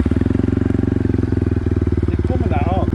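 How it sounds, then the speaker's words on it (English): A Lexmoto LXR 125 motorcycle with a baffle fitted in its exhaust idles close by, giving a loud, steady, fast chugging pulse throughout, with a brief voice near the end. "It's a 125 Lexmoto."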